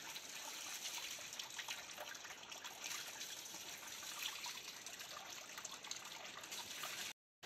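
Water trickles and splashes steadily from a village mountain spring spout in the hills, a continuous close bright hiss with no talk, cutting off abruptly near the end.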